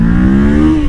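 A 2012 Kawasaki Ninja 650 motorcycle engine holding a loud, close, steady droning rev that shifts slightly in pitch as the throttle is chopped, under a second.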